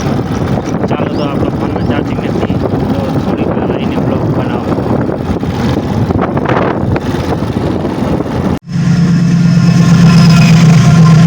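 A motorbike engine runs with a rough, wind-buffeted rumble under voices, then cuts briefly before a steadier idling hum resumes.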